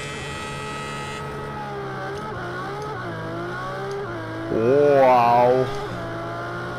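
A Ferrari FXX K engine revs hard in the Project Cars 2 racing game, a steady harmonic drone swelling into a loud, rising howl near the end, with a brief exclaiming voice over it.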